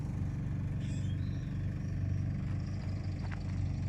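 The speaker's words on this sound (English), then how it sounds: "You may be able to hear the generator." Generator running at a campsite beside a parked bus and cargo camper to recharge batteries, a steady low engine hum droning continuously in the background with no talking.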